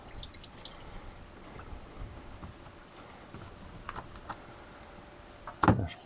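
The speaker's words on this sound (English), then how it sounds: "The oil will start flowing out here in a minute" Engine oil from a 2018 GMC Terrain starts to drain into a pan, with faint drips and trickling over low shop ambience. A brief, louder splash or clatter comes near the end.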